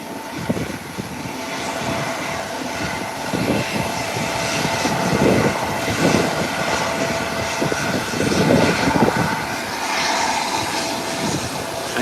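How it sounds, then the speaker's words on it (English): An airplane taxis toward an airport gate with a steady, loud jet engine whine and roar that swells and eases slightly throughout, with no speech. "It's taxiing right in this gate here."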